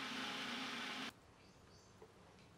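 An electric mixer whisks blueberries into cashew-based vegan cheesecake cream with a steady, buzzing whir for about a second, then cuts off abruptly, leaving faint background hiss and a small clink.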